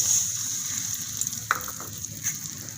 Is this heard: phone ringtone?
no